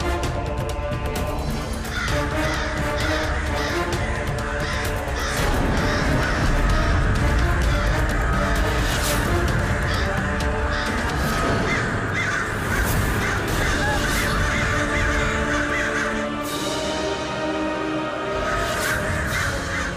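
Several crows caw repeatedly and loudly over a continuous dramatic music bed, the harsh calls overlapping throughout.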